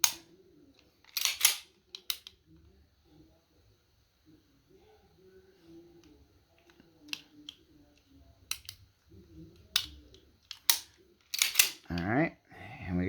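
Firearm function check with the action worked and the trigger dry-fired, giving a scattered series of sharp metallic clicks and snaps close by, with someone talking quietly between them.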